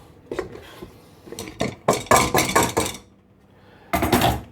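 Garlic and other ingredients tipped into a saucepan, giving a run of clinking, clattering knocks of utensil against pan in quick clusters, then a pause and a final burst of scraping clatter.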